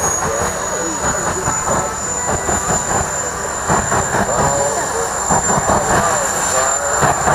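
A jet engine fitted to a modified portable toilet roars steadily at close range, with a constant high whine above dense broadband rumble throughout, amid outdoor crowd noise.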